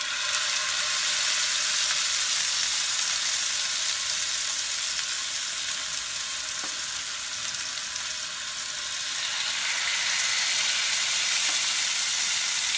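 Pork chops sizzle in a brown sugar sauce in a pan over low to medium heat, giving a steady, continuous crackling fry that stays close and even throughout.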